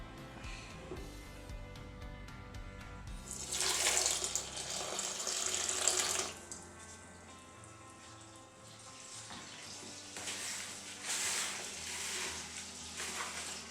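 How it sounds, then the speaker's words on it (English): Water pours from a tap into a container to mix tile cement, running in bursts with a splashing, hissing flow that surges loud, eases off, then picks up again. "I'm gonna start by adding water."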